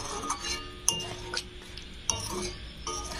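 A spoon stirring chicken skin with taro stolons in a pot just after a half bowl of water is added, making soft scraping strokes, metallic clinks and a low sizzle, close up and with no talk.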